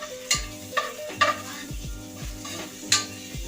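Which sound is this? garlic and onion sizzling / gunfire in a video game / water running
garlic and onion sizzling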